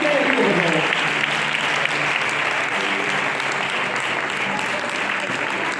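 A church congregation claps steadily and enthusiastically, a dense wash of applause filling the room from start to finish.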